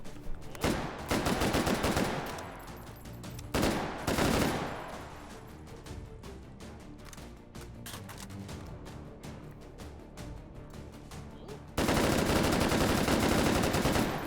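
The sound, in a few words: gunfire from a rapid-firing gun in video game H3VR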